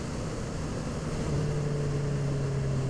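Steady Honda CB650F motorcycle engine drone while riding in winter, a low, sustained hum that rises slightly in pitch midway, constant and close, with wind noise over it.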